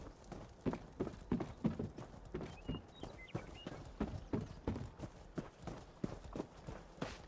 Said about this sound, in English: Sounds like my horse is with me.